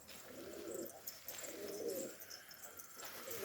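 Soft, low pigeon cooing repeats in a few rounded phrases from a recovering sick bird, against a faint background hiss, fairly close and unhurried.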